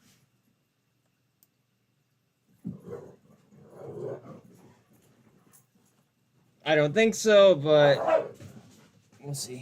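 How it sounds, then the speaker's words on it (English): Dogs bark and whimper in a few scattered bursts, moderately near, and someone talks over the loudest stretch near the end. "Sorry about the dogs."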